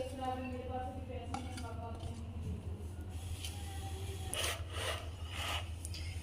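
Chopped capsicum, onion and cabbage being stirred together in a bowl for a chicken sandwich, giving a steady scraping and rubbing of spoon against vegetables and dish, with brief clinks toward the end under a constant background hum.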